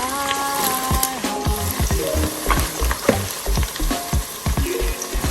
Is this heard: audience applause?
no